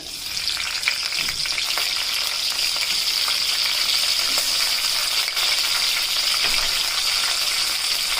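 Ten to fifteen green chilies sizzle steadily in a hot pan with oil for a coriander tomato chutney, a continuous bright frying hiss with occasional small pops and stirring scrapes, loud and close throughout.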